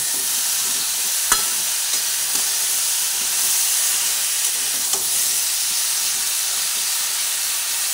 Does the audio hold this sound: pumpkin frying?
yes